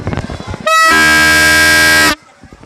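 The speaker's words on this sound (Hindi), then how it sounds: "ये ट्रेन के हॉर्न की तरह है" Toy pipiri horn blown at a fair at an Eidgah in Mau, a loud, steady, buzzy train-like honk lasting about a second and a half, preceded and followed by nearby voices.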